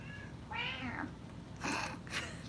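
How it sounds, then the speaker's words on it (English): A cat meows three times, close and clear, with a longer first meow followed by two shorter calls over quiet room noise. "She really is the best kitty."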